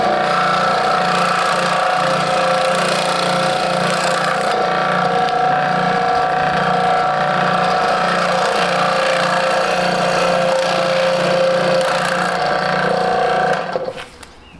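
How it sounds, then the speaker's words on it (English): A saw cuts steadily through a turkey tail being prepared for taxidermy mounting, a loud continuous buzzing drone that runs for several seconds before abruptly stopping near the end. "You can cut them with just about any saw."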